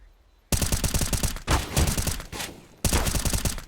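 Rapid bursts of gunfire from several weapons at once crackle through a Counter-Strike match on the Inferno map, with three dense volleys separated by brief gaps.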